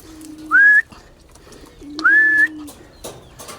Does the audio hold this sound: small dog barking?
no